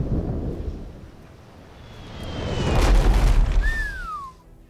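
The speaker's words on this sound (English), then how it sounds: "Mortar shells incoming." Mortar shells from coastal fortifications in the naval game Abandon Ship explode near a ship, a deep rolling boom swelling to a heavy rumble, followed by a whistling high tone that falls away.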